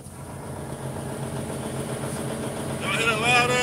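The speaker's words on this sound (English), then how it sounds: "Y'all hear that loud ass caterpillar right here?" Loud, finely tuned Caterpillar diesel truck engine rumbling steadily and building toward the end, heard close alongside a talking voice.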